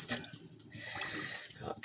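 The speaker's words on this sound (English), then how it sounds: "Bear with me a second while I rinse it off." Tap water runs into a kitchen sink as something is rinsed before vegan pasteles are made, a steady splashing stream close by that a voice partly covers.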